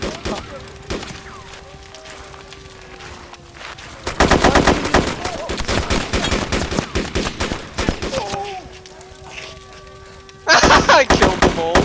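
Bursts of automatic gunfire and rapid shots ring out in a video game battle set in Takistan, with loud clustered volleys between quieter stretches, and excited voices shout over the action.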